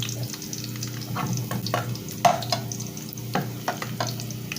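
Garlic and onion sauté in a pan for ginisang upo with beef, giving a steady sizzle broken by scraping stirs and clinks of a utensil against the pan, close and moderately loud with no talk.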